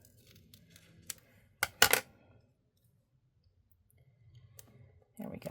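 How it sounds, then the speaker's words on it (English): Scissors trim a small piece of paper-backed craft material in a few sharp snips, with quiet clicks and handling around them and a muffled voice starting at the end. "I'm just going to trim a little piece of this off."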